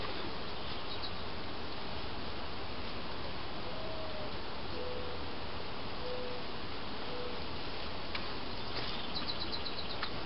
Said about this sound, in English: This particular hive is stuffed with bees.